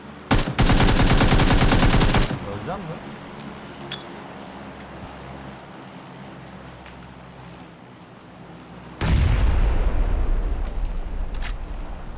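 Rapid automatic gunfire in the battle royale game PUBG, a loud close burst lasting about two seconds, then steady wind and ambient hiss before another loud burst of noise near the end.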